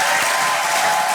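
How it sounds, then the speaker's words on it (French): Congregation at an Easter celebration applauding for the risen Christ, a steady dense wash of clapping filling the church throughout, loud and close, with no clear voices. "Applaudissons pour le ressuscité"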